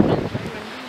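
Strong wind buffets the microphone at a Blue Mountains ridge lookout near Fortress Rock, a close, rough low roar that gusts loudest at the start and then eases.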